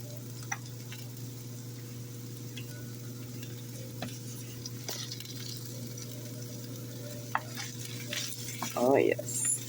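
Meat and asparagus brown in a hot pan with a soft continuous sizzle over a steady low hum, scattered ticks and clinks of stirring, and a louder scrape near the end.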